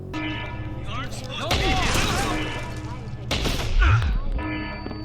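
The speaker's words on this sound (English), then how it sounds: "maybe I shouldn't have went in guns blazing there" Gunfire and heavy impacts in the shooter video game Deus Ex: Human Revolution, loud bursts and thuds over a continuous game soundtrack, with two dense swells of shots and crashes rising above the background.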